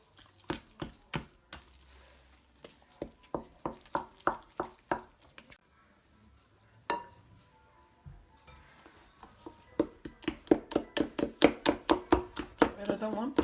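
Spoon or whisk repeatedly clacking against a bowl while stirring a yeast dough mixture for Latvian klingeris, in rhythmic bursts with a pause midway, then faster, denser strokes near the end.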